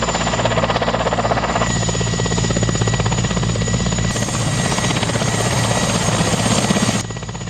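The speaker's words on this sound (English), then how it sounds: "a decision was reached to make a helicopter landing on Champa Island" A helicopter lands on Champa Island in the Arctic, its loud, steady rotor chop and turbine whine filling the whole stretch up close.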